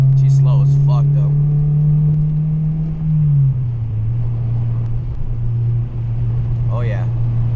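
A 2002 Acura RSX, slated for a turbo build, drones steadily along bumpy roads, its engine tone holding a low hum with a slight dip midway, under occasional talk from the driver.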